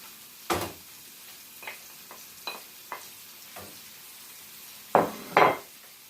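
Onions go into a pan for a pancetta sauce, bringing scattered utensil knocks and scrapes against the pan over a quiet background, ending in two louder, closer clatters, with no voices.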